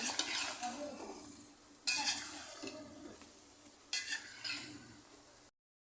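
A spoon stirs ground spices into homemade mango pickle in a metal pan, with three scraping, clinking bursts separated by brief pauses, close and fairly quiet.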